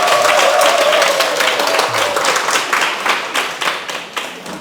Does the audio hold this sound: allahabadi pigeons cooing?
no